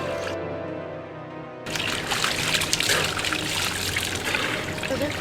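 Water trickles and pours steadily from a drinking-water tap as someone fills a container. The flow starts quietly and becomes louder and fuller partway through, with no talking.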